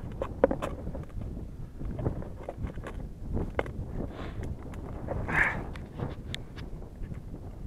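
Low, gusty wind rumbles across the microphone throughout, with scattered small clicks and knocks nearby, out on river ice while ice fishing.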